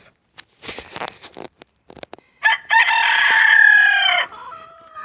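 Close chickens clucking in short bursts, then a rooster lets out a long, loud crow that trails off.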